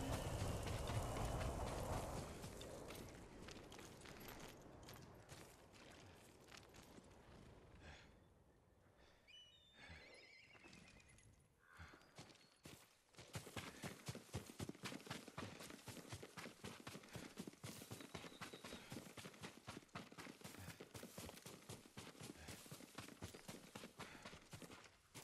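Horse hooves in the samurai video game Ghost of Tsushima, a soft, quiet clip-clop that sounds faintly at first, then settles into a steady, rapid beat of hoof strikes for the second half.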